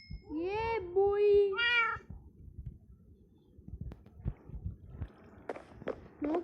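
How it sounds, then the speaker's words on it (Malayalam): Two baby kittens give a few thin, high mewing calls up close in the first two seconds, followed by soft rustling and handling noises with faint background murmur. "നോക്ക് ഗൈസ്, എന്താ ഒരു അത്ഭുതം. 2 ബേബി പൂച്ചാസ്."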